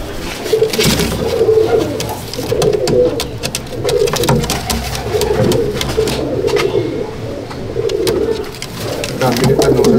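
Madrasi Kalduma pigeons, an old pure line, coo continuously in repeated low rolling phrases, close and fairly loud, with faint talk and other bird noise in the background.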